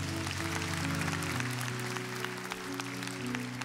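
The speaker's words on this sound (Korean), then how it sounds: "박수하겠습니다." Church congregation applauding during a Sunday worship service at Gyeongsan Jungang Church, steady clapping under sustained organ or keyboard chords for a few seconds.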